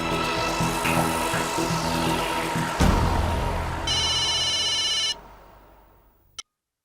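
A telephone rings in a home setting during a family sitcom scene, a steady electronic ringtone with a brief clear burst near the middle, cutting off abruptly before a short final click.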